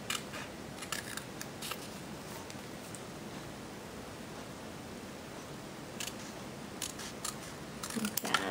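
Scissors snipping through a paper checklist sticker for a planner, a few faint, brief crisp cuts spaced out, with a small cluster near the end, over a quiet room hiss.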